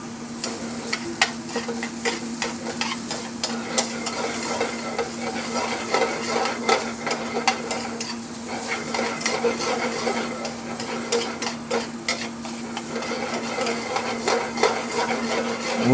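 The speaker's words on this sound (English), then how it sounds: "Got this high heat. And we want to extract all that fat out of this pancetta." Pancetta renders over high heat in a pan, sizzling steadily and continuously, close and bright. A utensil stirs and scrapes it with repeated clicks and knocks against the pan, and a low steady hum runs beneath.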